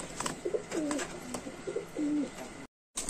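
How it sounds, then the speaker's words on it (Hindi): Rampuri pigeons, a pair with clean feathers, cooing in several soft, rolling calls at close range over a light background hiss, with a brief silent gap near the end. "पूरा जोड़ा साफ पखनों के कबूतर है"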